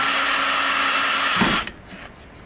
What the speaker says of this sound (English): I'm going to try to only drill it as deep as I need it instead of, you know, you really don't want to drill it all the way